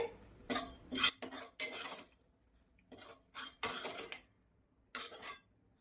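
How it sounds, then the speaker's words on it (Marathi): Fried dried bombil fish is lifted from a pan onto a plate with a metal utensil, giving several close, separate clinks and scrapes with short quiet gaps between them. "आता मी हे बोंबील साइडला प्लेट मध्ये काढून घेत आहे।"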